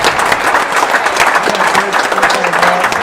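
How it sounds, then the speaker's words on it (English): A tennis club crowd applauding loudly and steadily after the final of a junior tournament, a dense wash of clapping close by with faint voices mixed in. "Plenty of applause from the Seacourt crowd"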